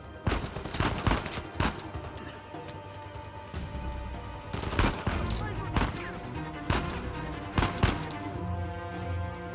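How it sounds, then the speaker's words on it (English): Gunfire in Uncharted 4 multiplayer: bursts of loud, sharp shots, some clustered in rapid volleys and others spaced apart, over a busy game background with no clear talk. "Where are you shooting me from?"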